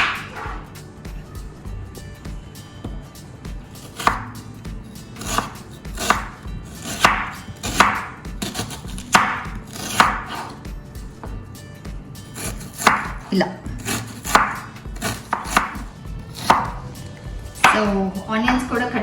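Onions are finely chopped with a knife on a board, giving rhythmic runs of sharp, close taps with brief pauses between the bursts.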